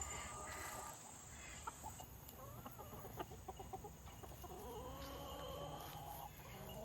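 Roosters, three of them out together in a farm yard, give scattered clucks and short calls over a steady background of insects and outdoor hum, with no talk.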